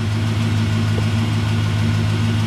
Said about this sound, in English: Sounds like you got an exhaust leak.